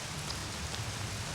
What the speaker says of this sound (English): I want to get out of this rain.